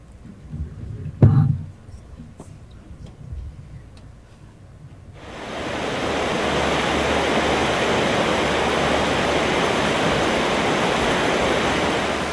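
River water where adult sockeye salmon spawn, a steady broadband rushing roar that swells in after a quiet start with a few faint knocks, then continues evenly and close.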